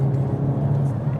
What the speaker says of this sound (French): Et le moteur est hargneux, il manque un poil de caractère, mais il est très volontaire.